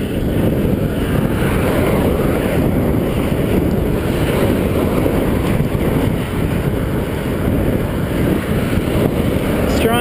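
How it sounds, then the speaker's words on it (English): Strong headwind blowing off Lake Superior buffets the microphone of a cyclist riding a Cannondale bike, producing a loud, constant low roar of wind noise that fills the whole stretch without pause. "Strong headwind straight off the lake."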